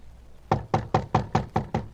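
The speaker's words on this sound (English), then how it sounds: "knocked on the door of flat number 6" Seven firm knocks strike a flat's door in quick, even succession as a radio drama effect, close and loud against a quiet room.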